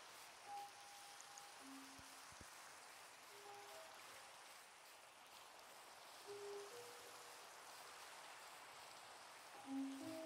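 Rain falling in the video game Minecraft, a steady soft hiss of downpour throughout, with brief tonal game chimes and clicks over it.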